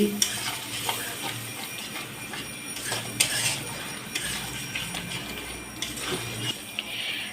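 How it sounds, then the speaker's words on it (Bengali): A katla fish curry spice paste is stirred with water in a pan, giving a series of close metallic scrapes and clinks of a spoon against the pan over a soft low sizzle. "এবার একটু জল দিয়ে দিচ্ছি তারপর নেড়ে চেড়ে নিচ্ছি"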